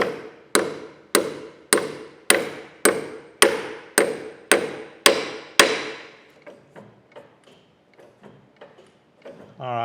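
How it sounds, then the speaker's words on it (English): Steel hammer blows drive a 1/4 inch roll pin into a part of a Monarch lathe: about ten loud, evenly spaced ringing strikes, then a run of lighter, quicker taps that trail off. "So I think what I'm gonna do is just put a roll pin in this thing."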